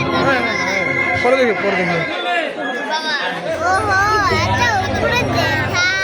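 Audience members chatter and murmur through a Bengali kobigaan folk song performance, a continuous babble of voices layered under loud singing, with a brief pause in the low accompaniment midway.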